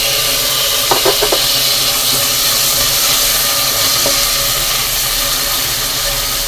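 Chopped tomatoes fry with cooked onions in a pan for mint (pudina) rice, giving a steady close sizzling hiss with a few light clinks early on.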